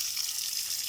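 Water runs steadily from a newly installed tap at a dacha in the forest, a quiet continuous hiss and splash with no talk.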